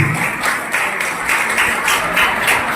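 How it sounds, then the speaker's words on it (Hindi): Audience applause fills a hall at a Mother's Day celebration event in Prayagraj, a steady broadband clapping that swells and dips in waves, with no talk over it. "इनके लिए तो विशेष रूप से ताली बजती है।"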